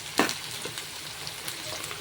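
Onions sizzling and being stirred in a hot pan for a raw mango fish curry, a steady close crackling fry with a brief louder scrape near the start.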